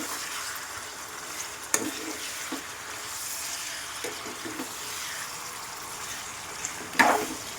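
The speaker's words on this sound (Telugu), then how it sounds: "దీంట్లోకి ఒక మీడియం సైజ్ టమాటో అయితే కట్ చేసి అయితే వేసుకుంటున్నాను. దీన్ని కూడా మంచిగా మిక్స్ చేసుకున్నాం." Chicken liver curry fries with chopped tomato being stirred in, a steady close hiss of sizzling oil with occasional soft spoon scrapes and a louder clatter near the end.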